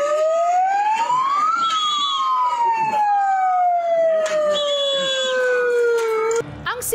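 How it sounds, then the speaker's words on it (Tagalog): A loud wailing ambulance siren rises and then slowly falls in pitch as the vehicle passes by, ending with a short clatter. "Paminsan-minsan, ang ingay ng mga dumadaang ambulansya."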